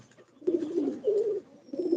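Domestic pigeons give soft, low cooing calls in three short bursts, close and clear against a quiet background.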